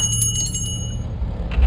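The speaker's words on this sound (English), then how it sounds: "with the jingle of a bell above my peeling white door" A small bell hung above a peeling white shop door jingles. Bright, rapid ringing shimmers through the opening second, close and clear, then fades over a low rumble.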